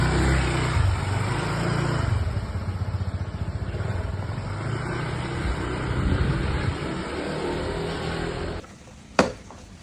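A Honda ADV160 scooter-style motorbike idles and revs close by in a steady, rumbling drone for several seconds, then cuts off abruptly, followed by a single sharp click.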